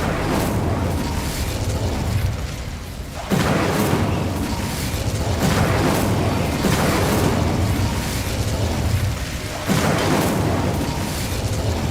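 In Hogwarts Legacy, repeated Confringo explosion spells go off as loud, booming blasts with rumbling low-end bursts, several in succession with brief dips between them and no voices.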